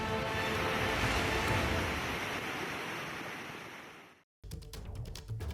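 Water pours through the 28 opened gates of Gosikhurd dam in Bhandara, Maharashtra during the monsoon, a dense, loud, steady rushing roar that cuts out abruptly and then returns.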